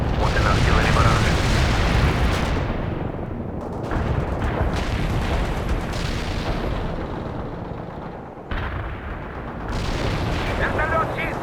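Heavy artillery barrage in the World in Conflict real-time strategy game, delivering loud, close booming explosions and rumbling blasts in overlapping bursts, with a brief lull before the shelling resumes, under intermittent radio-style voices.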